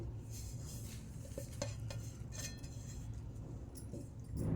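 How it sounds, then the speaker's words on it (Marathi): Spices with ground coriander and sesame seeds stirred together in a bowl, a soft scraping and occasional light clinks of a spoon against the dish, quiet and close. "आता ही मी सगळं एकत्र करणार हे मसाले"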